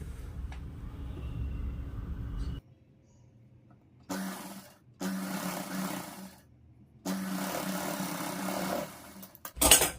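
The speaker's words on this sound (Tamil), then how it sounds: "இது எல்லாத்தையும் மடித்து உள்ளே வச்சு அப்படியே நான் வந்து தையல் போடுறேன்" A sewing machine stitches folded blouse cloth in bursts of steady whirring that start and stop several times, close and fairly loud, with short quiet gaps between runs.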